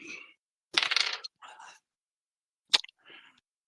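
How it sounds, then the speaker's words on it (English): Dice tossed onto a table during a tabletop game session, giving a short rattling clatter with a sharp click later on, between soft bursts of nearby talk. "I'm going to roll a dice."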